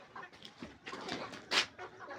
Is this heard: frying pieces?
no